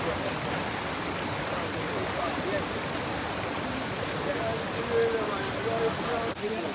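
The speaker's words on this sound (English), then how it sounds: "It is raining." Steady rain falling outdoors beside a river, a dense continuous hiss that stays at an even level and fills the whole scene with no break, apart from a brief dip near the end.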